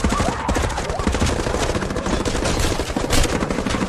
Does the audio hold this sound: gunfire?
yes